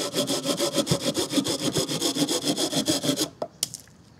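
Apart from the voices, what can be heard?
folding saw cutting wet dried hardwood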